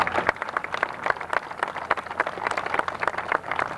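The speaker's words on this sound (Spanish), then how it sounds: "Fuerte aplauso para todos ellos." A crowd at a town festival in Benavídez breaks into dense, continuous clapping, many hands beating quick, uneven rhythms, fairly close and loud throughout.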